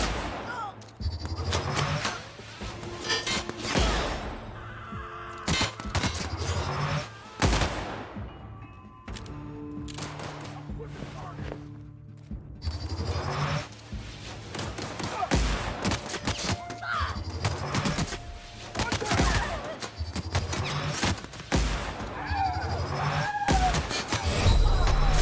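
Gunfire in The Outer Worlds during a firefight, repeated sharp shots and heavy thumps in bursts with a lull in the middle, mixed with game voices and effects.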